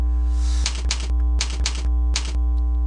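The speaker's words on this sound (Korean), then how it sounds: "15 엔터 치니까" Computer keys are tapped in quick bursts, two keys and then an Enter press, with distinct clicks over a steady electrical hum during CAD modeling work.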